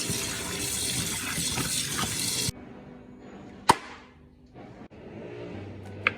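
Food rinsed under a running kitchen tap gives a loud, steady gush for about two and a half seconds, then stops abruptly. Quieter handling clatter follows, with a sharp knock.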